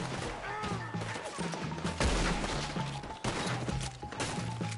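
Gunfire in the Red Dead Redemption video game during a wagon shootout, a rapid string of sharp, cracking shots with heavier bangs, over a busy background of game sounds.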